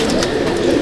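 Chennai Madrasi pigeons in a loft at Howrah, with a steady low cooing and murmuring from several birds close by, continuous through the brief moment.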